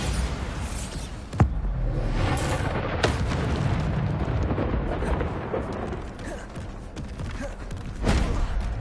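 Bombarda explosion spells cast in a Hogwarts video game, heard as several sharp blasts, one near the start and others spaced later, over a continuous noisy rumble of combat with a voice talking in between.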